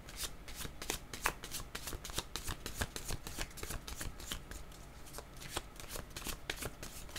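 Tarot cards are shuffled close by in a rapid, continuous riffle of papery slaps and flicks that runs steadily throughout, with no voice over it.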